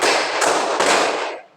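A classroom of students claps together in rhythm, three loud, sharp unison bursts in quick succession, then fading out.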